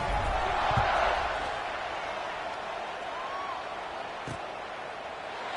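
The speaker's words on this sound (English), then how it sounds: "this crowd is buzzing after that last score" A college football stadium crowd in NCAA 26 buzzes in a broad, steady murmur after a score, with a few faint thumps.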